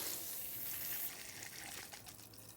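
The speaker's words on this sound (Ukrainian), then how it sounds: "І вже тут відкриваю кран." Water gushes from a freshly opened garden tap feeding a fertilizer injector, a quiet, hissing rush that stays fairly even and eases slightly toward the end.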